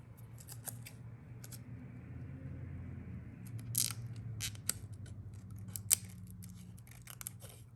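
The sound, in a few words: scissors trimming tape on a Cricut mug design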